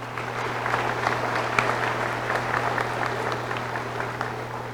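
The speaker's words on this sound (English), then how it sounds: "Let's give one last round of applause for the ACM administration and nursing faculty." Sustained applause from the audience at a nursing pinning ceremony at Allegany College of Maryland, a dense, even clatter of many hands filling a large hall with a steady low hum beneath.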